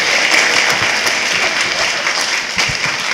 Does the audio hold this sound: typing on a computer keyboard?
no